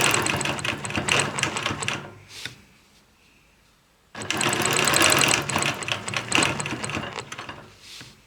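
Quilting machine stitching along a Taj ruler, a loud close rapid mechanical chatter that runs about two seconds, stops for a quiet gap, then starts again and keeps going steadily, with no talk.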